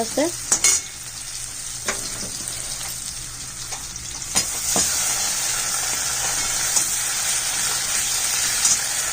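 Onions and spices fry in a pan while a spatula clatters and scrapes several times, then the sizzling swells louder and hisses on.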